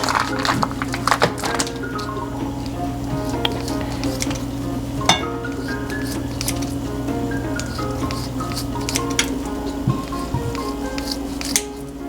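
Bacon sizzles and crackles in a pot, a steady close frying hiss with scattered pops and a few scraping utensil clicks against the pan.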